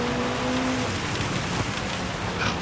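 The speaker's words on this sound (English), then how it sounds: "Oh my God, the rain is insane." Heavy rain pours steadily during a race in Gran Turismo 7 with an Alpine A220 race car, a dense hiss that fills the scene, while a faint engine tone is heard briefly at the start.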